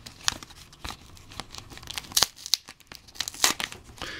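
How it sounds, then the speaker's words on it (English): A Pokemon BREAKpoint booster pack wrapper is torn open in a series of short, sharp rips and crinkles, close and fairly quiet, with brief pauses between the bursts. "And of course I would rip it."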